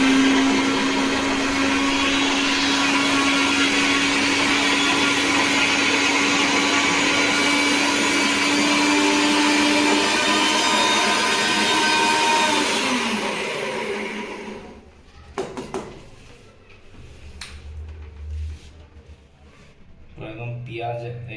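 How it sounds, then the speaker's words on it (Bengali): A kitchen mixer grinder whirs loudly and steadily as it blends chopped onions into a paste, a dense continuous motor drone that runs for about fourteen seconds and then stops, followed by quieter clatter and a voice. "এবার এই মিক্সি বার করে নিয়েছি, এখন যাবে এটা পুরো একদম পেস্ট হতে।"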